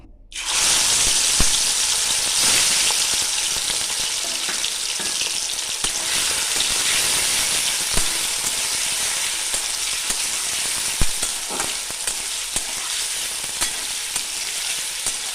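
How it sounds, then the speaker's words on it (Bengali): Prawns stir-fried in hot mustard oil in a wok, a loud, dense frying sizzle running throughout with occasional sharp clicks of a spatula against the metal. "প্রথমে আমি চিংড়ি মাছগুলো হালকা করে একটু কড়ায় নাড়িয়ে নেব।"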